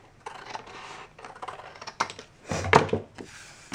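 Cardstock being cut with scissors to trim off a triangle for a handmade tea bag card, heard as a close series of short crisp snips and paper rustles. The sharpest, loudest cut comes near the end, with no talking.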